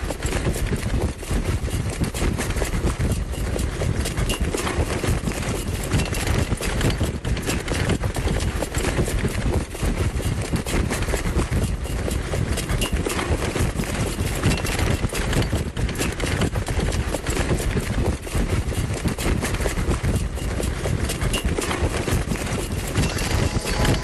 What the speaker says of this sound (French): Ils entraînent des chevaux de course au trot.